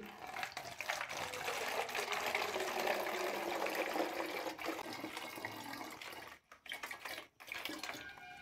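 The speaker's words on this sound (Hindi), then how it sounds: "पानी लेके आए हैं पानी डाल दें इसमें" Water pours steadily into a plastic bottle, a continuous rushing splash that runs for several seconds before breaking into a few short stop-start gushes near the end.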